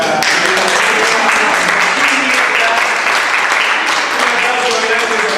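Audience at a Borges conference in Mercedes applauding, a loud, dense wash of clapping that fills the room steadily from start to finish, with some voices mixed in.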